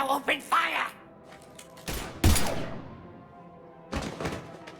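Mass Effect 3 Legendary Edition cutscene gunfire: a few sharp, loud shots go off in separate bursts against a quiet background.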